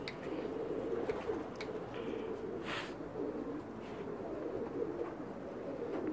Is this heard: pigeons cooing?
yes